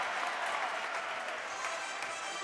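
A home crowd at a boys high school basketball game claps and cheers in a steady, fairly faint wash of applause that holds for a couple of seconds without pause.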